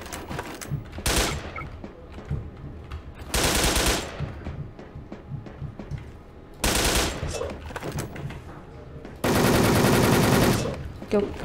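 An M4A1 rifle fires in the online shooter Wolfteam, several loud sustained automatic bursts separated by quieter stretches of background game sound.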